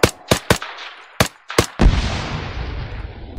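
Gunfire and a grenade blast in the military shooter ARMA 3: five sharp, loud shots ring out in quick succession, then a heavy explosion booms and rolls off into a long fading rumble.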